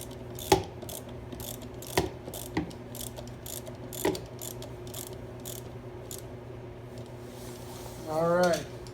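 Ratchet clicks while tightening bolts during installation of an electric winch on a Jeep Wrangler JK, sharp isolated clacks spaced seconds apart over a steady hum, with a short whirring burst at the end.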